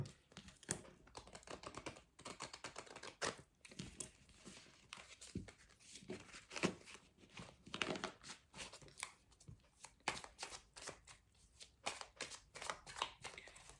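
A deck of oracle cards is shuffled by hand close up, giving repeated soft riffling and crackling bursts in an uneven rhythm for the whole stretch, with no talking.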